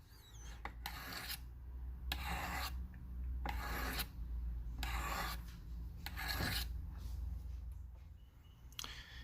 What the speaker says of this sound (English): I just started sharpening this knife a couple minutes ago